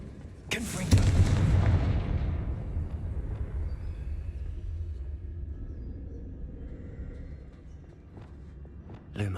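A Confringo fire spell from Hogwarts Legacy bursts with a sharp blast, then a long rumbling roar that slowly fades, with a soft crackle at the very end.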